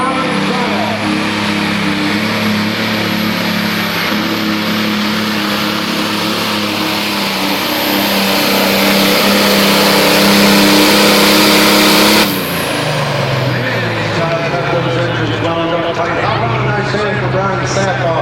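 A super/pro stock pulling tractor's diesel engine revs hard and loud for a long sustained run before the pitch drops and it settles into a lower roar, with an announcer talking over it.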